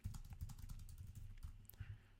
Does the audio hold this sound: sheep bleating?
no